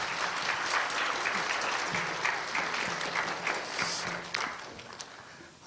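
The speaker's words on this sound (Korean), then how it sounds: "큰 박수로 환영해 주시기 바랍니다" A church congregation applauds in welcome, with steady, dense clapping from a sizable crowd that holds for several seconds before thinning toward the end.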